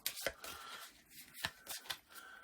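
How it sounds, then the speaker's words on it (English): A deck of cards for a board game is given a quick shuffle: a few crisp riffling bursts and flicks, close and fairly quiet, with no talking. "And then we go to the findings deck, give that a quick shuffle."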